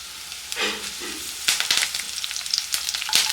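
Dried red chillies and curry leaves hit hot oil in a pan, bursting into a close, crackling sizzle with sharp spits and pops that grow busier as they fry.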